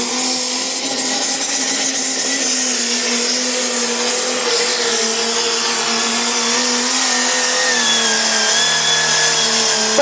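Old-stock class pulling tractor engine running loud and sustained during a test run at a pulling event, a steady high-pitched roar with droning tones that shift slightly in pitch, alone without talk.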